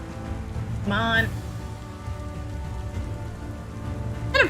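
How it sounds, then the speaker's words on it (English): Steady rain patters across the scene in Final Fantasy XIV: Endwalker, with brief tonal game sounds rising near the start and end; no speech. "And of course it's raining here."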